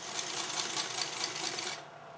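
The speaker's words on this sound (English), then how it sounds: "as I sew, I'm going to kind of curve that whole thing so that it feeds straight under my presser foot." A sewing machine stitches quilt fabric under the presser foot, running in a steady, fast, even whir close by for almost two seconds before stopping.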